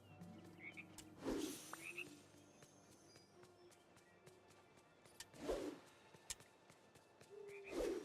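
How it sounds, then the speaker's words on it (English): Three loud frog croaks from the video game Dreamlight Valley ring out over quiet game ambience, with short chimes and clicks in the gaps between them. "Oh, these dang old frogs."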